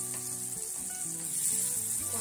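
Fresh coriander sizzles steadily in hot oil while being sautéed for a tiny shrimp curry, a continuous close frying hiss with faint stirring and no talk.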